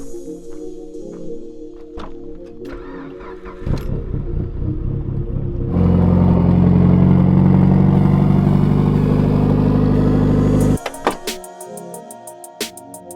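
Engine of a Mitsubishi Lancer Evolution 8 starting up and idling unusually high, with clicks and clatter first, then a steady loud raised-idle drone for several seconds before it drops away.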